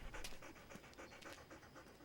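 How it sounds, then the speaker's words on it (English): A dog pants quickly to cool off in hot weather, a soft, rapid, rhythmic series of breaths heard close but faint, with no talk. "He's panting. Panting is a dog's way of keeping cool when it's hot."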